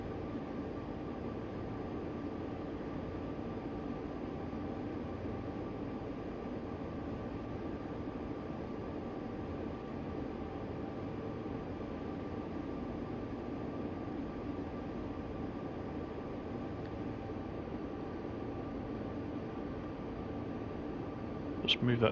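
A 4,500-horsepower heavy freight locomotive in Train Sim World 2 on Sherman Hill drones as a low, steady engine rumble with a constant hum and whine, unchanging throughout, ending with a brief faint click.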